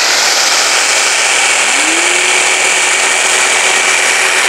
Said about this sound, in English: We have a belt sander.